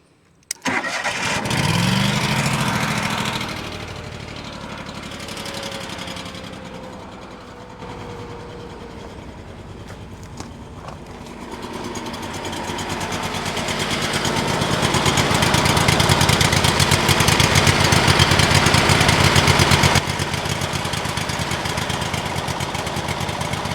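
A Kohler CH-25 small engine that may need a rebuild cranks and catches, then settles into a loud steady run that climbs in revs and holds there, no voices.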